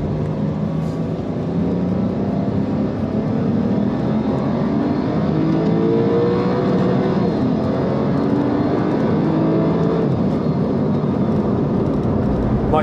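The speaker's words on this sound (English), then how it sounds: "Such a distinctive Porsche sound." A Porsche 911 Carrera 992 engine drones loud and steady, its pitch rising and falling as the revs climb under continuous road noise, with no voices over it.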